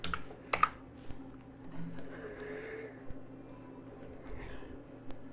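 Typing on a computer keyboard as a question is entered into ChatGPT, quick soft key clicks in irregular bursts over a low steady room hum, with a couple of sharper taps.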